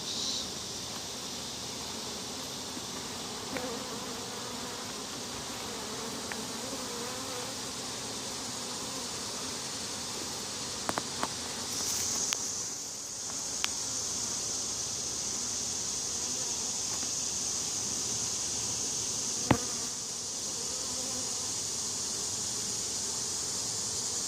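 Honeybees buzz steadily around an opened beehive during an inspection of frames filled with nectar and honey, a dense sustained drone with occasional brief knocks and clicks from handling the hive boxes.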